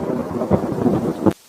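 Thunder rumbles low and heavy with rain in an animated Hindi moral story, a short rolling burst that cuts off abruptly.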